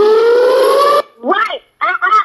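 A loud, steady alarm siren sound effect holds a single rising tone for about a second, then cuts off as a voice speaks.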